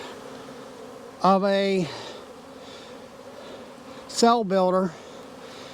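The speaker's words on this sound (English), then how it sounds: "A lot of bees in here" A packed queen cell builder hive full of honeybees gives a steady low hum, with someone speaking briefly twice over the buzzing.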